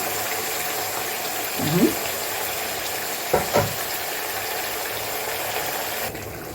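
Chicken liver frying in oil in a pan, a constant close sizzle broken by a few spoon scrapes and clacks as it is stirred, with no one talking.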